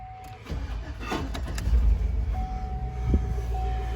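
A 2004 Chevrolet Tahoe that has sat unused cranks and turns over, rough engine noise rising and churning for a few seconds with a faint steady whine running through it.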